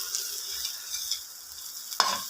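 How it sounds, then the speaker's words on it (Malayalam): Bitter gourd frying in coconut oil for pickle fills the pan with a steady bright sizzle, with stirring scrapes and a sharp clink near the end. "ഇത് വറുത്തെടുക്കുകയാണ്, വെളിച്ചെണ്ണ വറുത്തെടുക്കുക."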